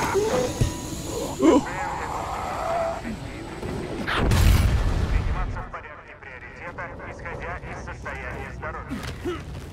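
A deep barrel explosion in the video game Dying Light 2 booms midway, with rumbling low energy, surrounded by game sound effects and people talking before and after.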